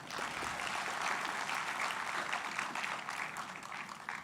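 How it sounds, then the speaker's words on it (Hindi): Audience at a mushaira poetry gathering in Vadodara breaking into steady applause, a continuous dense clapping from many hands at moderate distance, with little talk. "आप एक बार अपने लिए तालियां बजा दीजिए"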